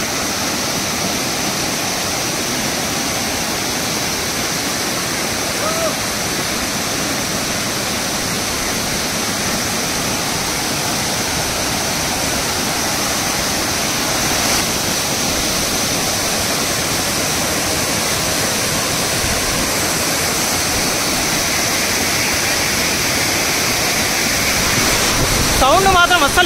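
Kusrampalli waterfall on the Telangana–Karnataka border roars as a dense, continuous rush of falling water, loud and close, steady from start to end and swelling slightly at the close.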